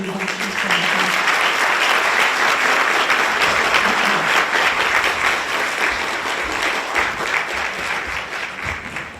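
Audience applause welcoming Secretary Pompeo at a formal event, a sustained, loud, even clapping from a large crowd that slowly tapers toward the end.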